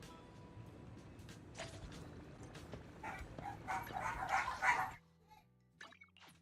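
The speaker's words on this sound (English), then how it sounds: "Those dogs are barking for no reason again." Dogs barking in the video game Zenless Zone Zero, a string of faint, distant yips and barks over a quiet game ambience, growing busier before cutting off abruptly.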